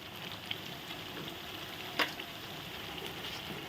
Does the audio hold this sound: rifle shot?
no